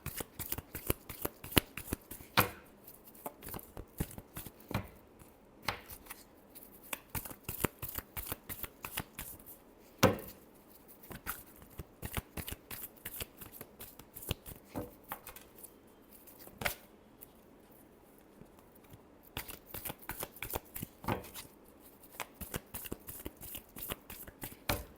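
Tarot cards are shuffled over and over, a steady run of crisp riffling snaps and sharp slaps lasting the whole stretch, close and clear with no talking.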